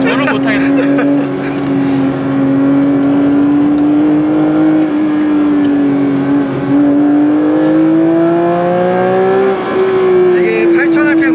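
A Porsche Cayenne Turbo GT or 718 Cayman GT4 engine drones loudly on a race circuit, heard from inside the car. Its pitch climbs slowly and steadily as the revs build, with a brief lift near the end.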